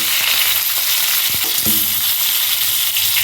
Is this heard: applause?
no